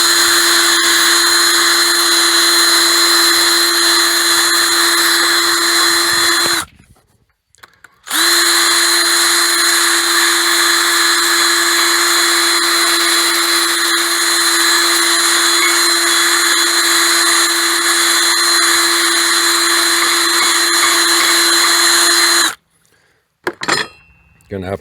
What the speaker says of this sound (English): I've got this little flapper sanding disc, and I'm just in the process of trying to clean these holes out better